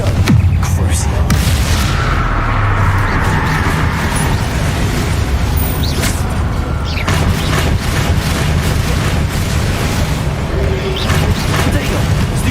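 Spell explosions from Confringo and other casts burst in Hogwarts Legacy, loud, close and layered into a continuous roar of booms and crackling debris, with a voice speaking throughout.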